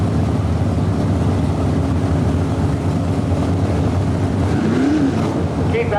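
A drag racing car with a narrow small block engine roars at an NHRA divisional event on a dragway. Loud, continuous engine drone fills the air while an announcer talks over it.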